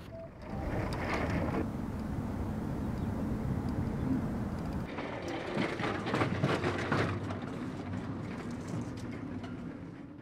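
A medical helicopter in flight gives a steady, loud roar of engine and rotor noise that fills the whole stretch, with a rougher, more broadband wash in the second half.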